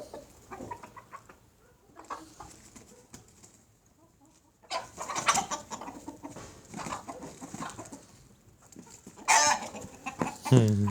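Chickens and a rooster on a poultry farm cluck in scattered, fairly quiet bursts that grow busier and louder midway, with a sharper squawk near the end.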